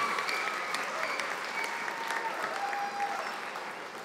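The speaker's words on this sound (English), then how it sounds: "How about a big round of applause and maybe an extra hiya in there as well." A graduation audience gives a round of applause for a group of opticians, a dense, even clapping from a large crowd that holds steady and then slowly fades toward the end.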